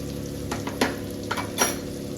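Amla pickle masala fries in a pan with a steady sizzle, broken by a few louder bursts of stirring and scraping, close and alone.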